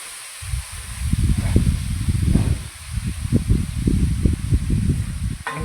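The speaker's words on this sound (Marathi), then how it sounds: "तर आपली मस्तपैकी थोडंसं परतून घेतलं तेलामध्ये, त्यात आपण टाकणार आहोत आपली कांद्याची पात." Chopped spring onion greens tossed into hot oil in a home kitchen give off a steady, close hiss and crackle of sizzling with uneven bursts, with no talking.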